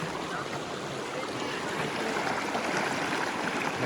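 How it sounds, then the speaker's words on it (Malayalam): River water rushes over the rocky riverbed at Sahasralinga near Sirsi, Karnataka, a steady broadband flowing roar close by with no pauses, heard alone without voices. "വെള്ളം ഒഴുകുന്നുണ്ടോ?"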